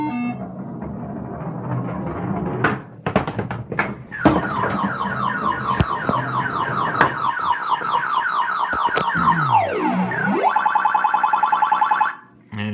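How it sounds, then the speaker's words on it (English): Skee-Ball arcade machine sounding its scoring noise: a loud run of rapid electronic beeps and warbling tones, with a falling-and-rising sweep near the end, over thumps of rolling balls and faint background voices. "at certain scoring points, it makes a lot of noise"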